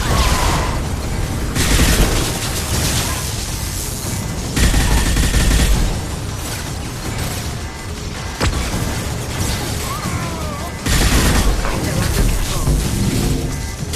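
Gunfire in Mass Effect 2, loud, sustained volleys of rapid shots and booming impacts in repeated bursts, with brief quieter gaps and occasional mechanical clanks, close and dominant.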